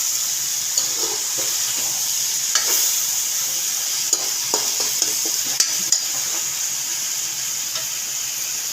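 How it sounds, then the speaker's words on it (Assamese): Spices fry in oil for a pointed gourd and potato curry, making a steady, close sizzle broken by repeated scrapes and taps as they are stirred in the pan. "পেলাই দি মই ভালকৈ ভাজিম।"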